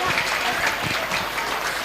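Loud, sustained applause from an audience welcoming guest Ravikumar at an inauguration event at a government school, with steady clapping filling the whole stretch and voices mixed in.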